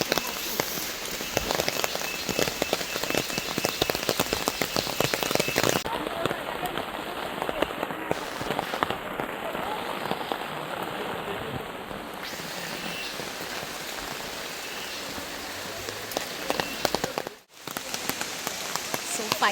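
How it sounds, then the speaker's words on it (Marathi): A heavy afternoon downpour in the Coorg hills drums steadily and loudly, a dense hiss of rain that continues unbroken for the whole stretch, with a brief dip near the end. "आता खूप मोठा पाऊस चालू झालेला आहे"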